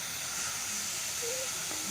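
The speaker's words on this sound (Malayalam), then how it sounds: "ആദ്യം ഒരു കുറച്ച് വെളിച്ചെണ്ണ ഒഴിച്ചിട്ട് വറുത്തെടുക്കണം" Ginger frying in hot coconut oil gives a steady, close hiss with a faint higher tone near the end, no voices.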